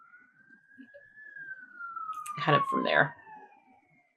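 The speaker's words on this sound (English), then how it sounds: "So that was a siren on my side" A siren wails outside, its rising and falling tone sweeping past at moderate distance while a person speaks briefly over it.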